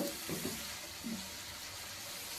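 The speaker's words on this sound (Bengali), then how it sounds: "এখন পানিটা এখানে অ্যাড করে দিব।" Water poured into a prawn curry simmering in a pan makes a faint, continuous rushing hiss that holds steady over the short stretch.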